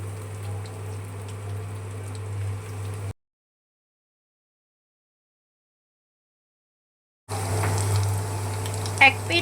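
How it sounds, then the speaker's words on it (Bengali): Bread cutlets fry in a hot pan with a steady, moderate sizzle that cuts out to silence for a few seconds midway, then resumes just as before. "এভাবে একটা একটা করে আমরা ভেজে নেব।"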